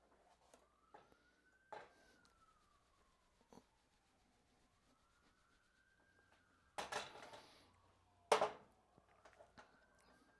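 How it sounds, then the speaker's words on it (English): A faint siren wails up and down far away, with a few sharp knocks and clatters close by in an otherwise quiet room. "I hear more sirens."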